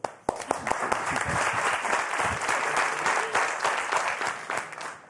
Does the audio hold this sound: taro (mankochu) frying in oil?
no